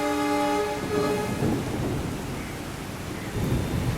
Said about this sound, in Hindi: और ये बारिश तो वाकई मज़ा आ गया।